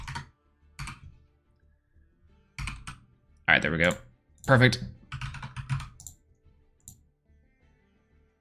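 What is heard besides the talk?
computer keyboard typing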